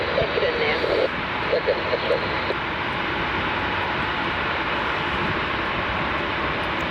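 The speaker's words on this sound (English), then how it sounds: "ZL31 is taxiing right in front of us here" Fixed-wing aircraft ZL31 taxiing at Melbourne Airport in extreme wet weather, a steady broadband engine roar holding close and loud throughout, with brief talk over it near the start.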